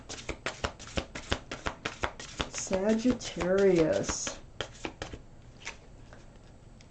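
Rapid rhythmic riffling of playing cards being shuffled close up, with a person speaking briefly in the middle before the shuffling trails off.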